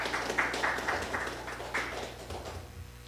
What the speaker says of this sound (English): a round of applause for CUNA Insurance because they have been with us since the inception